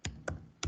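Three distinct computer keyboard keystrokes in quick succession, close and clear, with no talking.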